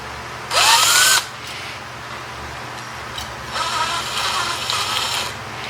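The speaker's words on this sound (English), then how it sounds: "Take a flat-headed screwdriver and put it in the drill, and that'll bring it apart." A power drill fitted with a flat-headed screwdriver bit, heard in one loud, close, rising whine lasting about a second, then a quieter, longer stretch of running with a steady hum in the background.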